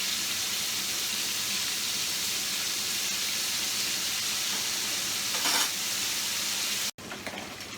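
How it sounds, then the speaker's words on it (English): Sole fillets deep-fry in hot oil for salt and pepper fish, a dense, steady sizzle and bubbling that holds at an even level throughout, with a brief rise near the end before a sudden cut. "We're going to fry this in batches, about 5 minutes, and then take it out and put it on the rack"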